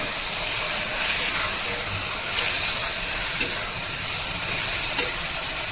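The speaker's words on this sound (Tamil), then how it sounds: "புதினாவும் போட்டு நல்லா வதக்கணும்" Mint leaves are sautéed in a pan with onions for a Sunday chicken dish. A steady, close sizzle hisses throughout, with faint stirring scrapes now and then.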